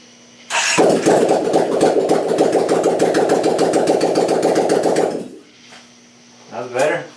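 Kawasaki Brute Force 750 ATV V-twin engine cranks and catches, running loud and close with a steady rough idle for about five seconds before cutting off, followed by a brief voice.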